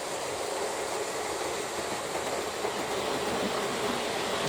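Model train running at higher speed around a layout, giving a continuous broad rolling rush and clatter of wheels on track, steady and moderately close, with no voices.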